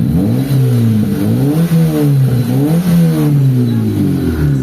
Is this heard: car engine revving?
yes